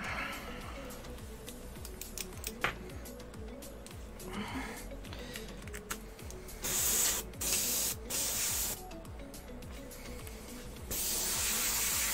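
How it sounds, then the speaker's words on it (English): Airbrush spraying paint onto an X-Wing scale model, soft close hissing in short bursts with a longer spray near the end, amid small handling clicks. "So the next quick one will be the airbrush."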